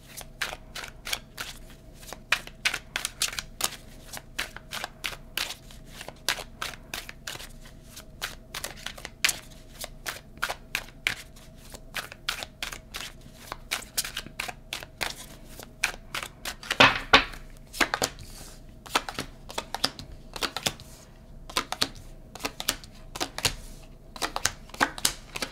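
Tarot cards shuffled by hand in a steady stream of crisp riffling clicks and slaps, close and fairly quiet, continuing for the whole stretch with one louder snap midway.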